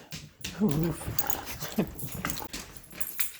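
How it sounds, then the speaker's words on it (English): A dog waiting for food whimpers and whines close by in a series of high, uneven cries and small yips, with a few soft growly sounds between them. "We have a dog who's waiting for food."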